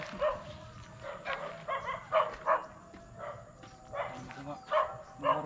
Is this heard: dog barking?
yes